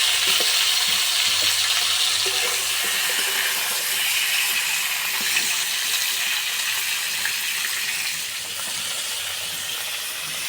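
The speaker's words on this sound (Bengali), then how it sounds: "তেল গরম হয়ে গেছে এবার পটল ভেজে নেবো" Pieces of pointed gourd frying uncovered in hot oil in a wok, with a loud, dense, continuous sizzle and hiss close by that eases slightly toward the end, with no voices.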